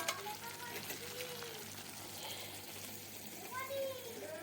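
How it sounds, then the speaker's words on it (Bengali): Palak paneer with kasuri methi is stirred in a hot pan, giving a quiet, steady sizzle with faint scraping. Indistinct voices murmur softly in the background. "কসুরি মেথিটা দিয়ে দিলাম, ভালো করে একটু নাড়িয়ে দিলাম।"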